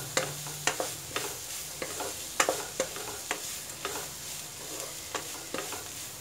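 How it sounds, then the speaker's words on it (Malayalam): Ivy gourd and onions fry in a pan with a steady soft sizzle, punctuated by regular scraping stirs of a spatula at close range, with no talking. "ഇനി നന്നായിട്ട് ഫ്രൈ ചെയ്തെടുക്കുക."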